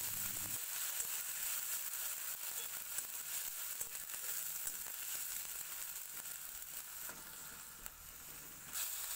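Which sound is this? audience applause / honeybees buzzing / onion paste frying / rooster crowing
onion paste frying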